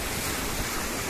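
Water rushes out of a village water mill on a stream in Dang, Nepal, a dense, steady wash of flowing water with no break in the brief stretch.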